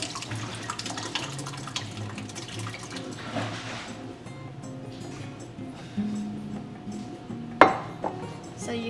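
Liquid bird nest drink poured out into a container, a light steady trickling and splashing close by, with a few faint clinks near the end.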